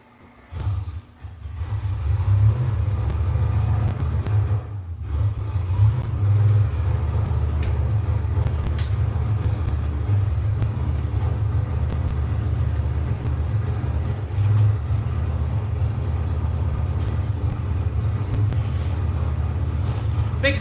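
Car engine with a 3800 intake setup held under load on a dyno, a loud steady low rumble droning without break for about twenty seconds.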